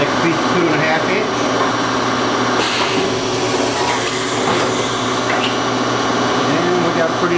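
An MSI ChamferMate C3A chamfering machine runs with a loud, steady mechanical whine and hum, joined by a few brief scraping surges as it cuts.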